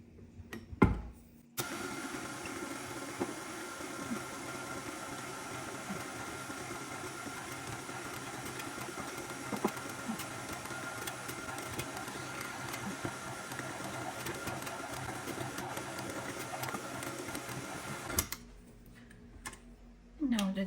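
A stand mixer kneads Polish pączki dough enriched with milk and melted butter, giving a steady, continuous motor whir with a faint rhythmic clatter that runs unbroken for most of the stretch before stopping near the end.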